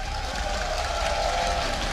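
A steady wash of crowd noise fills an arena at a 2017 EU LCS League of Legends esports match between Misfits and Ninjas in Pyjamas, with continuous applause and cheering.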